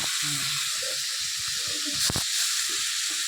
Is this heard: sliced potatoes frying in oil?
yes